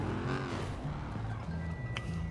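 Car engine in GTA V roleplay gameplay, a steady loud drone running throughout with tonal hums, in a damaged vehicle.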